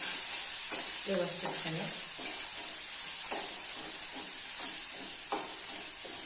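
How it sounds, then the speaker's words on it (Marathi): Crushed chili-garlic thecha frying in a pan, a soft steady sizzle and hiss with occasional stirring scrapes, while a voice briefly speaks over it. "आपण ठेचा चांगला परतून घेऊया"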